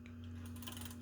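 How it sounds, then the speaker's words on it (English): The ribbon advance of a 1912 Harris Visible No.4 typewriter gives a soft, quiet ratcheting whir of small mechanical clicks over a low steady hum, smooth and brief. "it's a very smooth action, and much more silent when you advance the ribbon"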